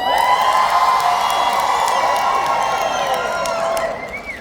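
Large crowd cheering and whooping loudly and steadily, a dense roar of voices with rising shouts that eases off slightly at the very end.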